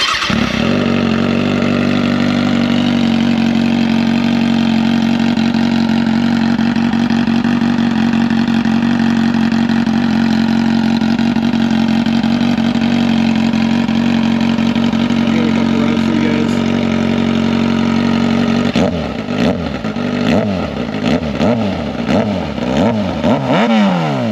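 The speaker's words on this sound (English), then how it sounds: "I'll give you guys a exhaust clip right now, actually." Kawasaki ZX6R fitted with a cheap slip-on exhaust, idling loudly and steadily with a close, throbbing engine note for most of the run, then blipped through several sharp revs near the end.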